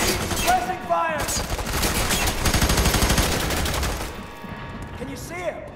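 Gunfire in the video game F.E.A.R. on maximum settings: loud, dense rapid-fire bursts of automatic weapons and shots fill the scene almost continuously, with brief shouted voices mixed in.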